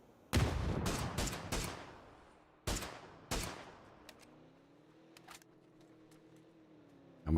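Loud bursts of gunfire and explosive blasts crack through a PUBG esports match as a grenade is launched, several sharp shots in quick clusters followed by quieter distant pops and a low engine drone.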